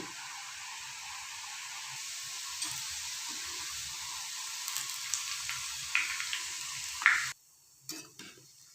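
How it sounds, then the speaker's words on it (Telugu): Sorghum flour murukku frying in hot oil, a steady close sizzle and hiss with a few sharper crackles and pops, alone with no talk, dropping off abruptly near the end. "ఇలా గోల్డెన్ బ్రౌన్ కలర్ వచ్చేంత వరకు వేయించుకొని తీసి"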